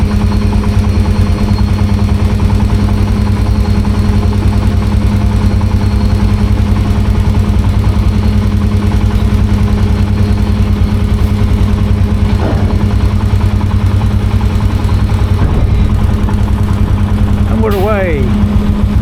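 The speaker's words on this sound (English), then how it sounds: "Engines on." Vehicle engines idle and rumble loudly aboard a ferry as its ramps drop on the way to the Atlantic Ocean Road, a constant low drone with a few brief clanks and a squeal near the end.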